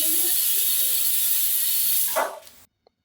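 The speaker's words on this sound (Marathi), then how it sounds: "3 शिट्ट्या झाल्या आणि इथे आपला कुकर देखील छान गार झाला आहे" Steam hisses loudly and steadily from a pressure cooker making spinach pulao on a gas stove at medium flame, a whistle release that cuts off abruptly near the end, leaving silence.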